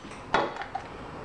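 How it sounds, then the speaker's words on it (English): A closed plastic salsa container with water inside is shaken, giving a short close clatter of sloshing and knocks. The main burst is followed by a couple of lighter taps. "I'm actually gonna close the lid and shake it up."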